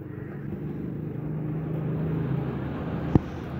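A car engine idles with a low, steady rumble at moderate level, with one brief sharp knock near the end.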